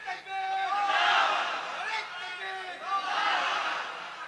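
A crowd at an Islamic sermon gathering shouts the takbir in two loud, chanted waves, many voices in unison answering a lead call, then briefly dropping before the second roar.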